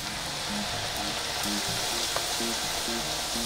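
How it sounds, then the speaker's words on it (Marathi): Flattened rice flakes (poha) fry in hot oil over a high flame for a crisp chivda, giving a dense, even, crackling sizzle that continues without pause, with faint background tones underneath. "मोठ्या गॅसवर आपण पोहे तळतो."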